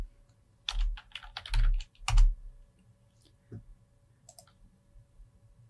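Fingers type on a computer keyboard to rename a view in Revit, with a few short bursts of close, crisp key clicks separated by quiet pauses.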